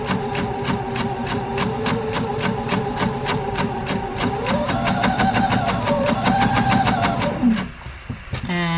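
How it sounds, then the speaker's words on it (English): A sewing machine stitches a row of basting on an Orla dress, with a fast, even needle chatter running close and steady for about seven seconds before it stops, while someone talks over it. "Don't mistakenly sew across your first row of basting."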